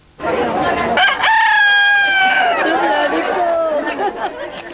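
A rooster crows loudly and close in one long, drawn-out cock-a-doodle-doo, with clucking and chatter around it in a village setting.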